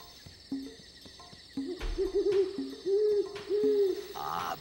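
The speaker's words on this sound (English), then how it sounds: "Great horned owl." A great horned owl gives a series of deep, soft hoots in a slow rhythm, fairly close against quiet background hiss.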